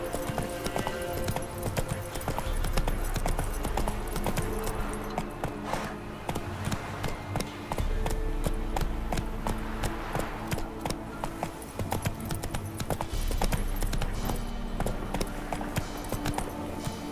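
Roach, a horse in The Witcher 3, gallops with loud, steady clip-clop hoofbeats that repeat fast and evenly from start to finish over a dense game soundscape.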